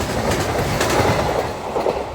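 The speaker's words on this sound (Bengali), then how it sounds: "আমাদের ট্রেন এখানে ডান দিকে টার্ন নিয়ে নিল" A train runs on rails through a right-hand turn at a junction, a steady loud rumble with rhythmic wheel clatter and faint squeal, heard close up from on board.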